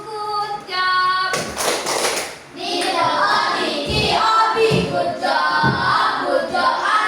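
Children in a classroom break into a rhythmic patterned clap after a call from their teacher, a burst of bright hand claps that settles into steady group clapping with some voices mixed in.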